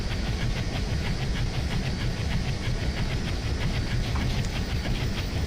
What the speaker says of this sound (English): so the more you slide the reverser back, the shorter the chuff is, and so at higher speeds you get a better chuffing sound